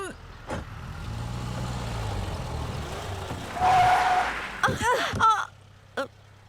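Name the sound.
car braking suddenly on road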